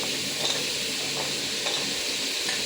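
Carrots, beans and potato being stir-fried in a pan make a steady, continuous sizzle and hiss with faint scraping as they are stirred, and no one speaks.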